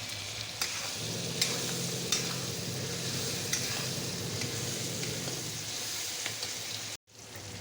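Masala sizzles steadily in a pan while a spoon stirs it, a close, continuous frying hiss with faint scraping ticks, cut by a brief gap near the end; cooking for pasta with capsicum to follow.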